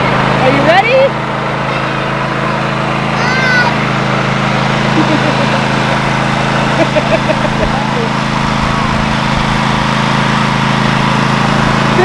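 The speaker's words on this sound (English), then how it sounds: "He loves riding on the lawnmower with Dad." A riding lawn mower's engine drones at a steady, loud idle close by for the whole stretch while children shout and chatter over it.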